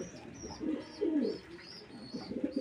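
Pigeons in a loft give soft, low, rolling coos in several short bursts, close and fairly quiet, with faint higher chirps over them and no talking.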